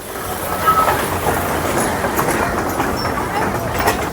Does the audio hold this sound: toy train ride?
yes